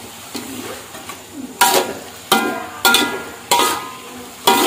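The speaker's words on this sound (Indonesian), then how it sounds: "Ini kita campur-campur di biar bumbunya itu meresap ke dalam udangnya." Shrimp being stirred with spices in a frying pan, giving repeated bursts of scraping and sizzling every second or so over a steady frying hiss, close and fairly loud.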